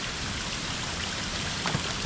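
Steady rain falls in a dense, even hiss that holds without a break throughout, with no voices.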